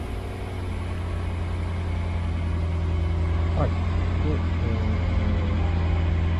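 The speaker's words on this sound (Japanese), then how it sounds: "じゃあちょっとエンジンかけます。" An automatic-transmission car, raised with its wheels off the ground in a garage, runs at a steady low idle under brief spoken remarks nearby.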